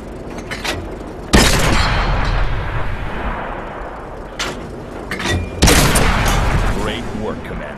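Tank cannon in World of Tanks firing at an enemy tank: two heavy booming shots with rumbling tails a few seconds apart, plus a sharper blast, over a steady engine drone and a voice talking.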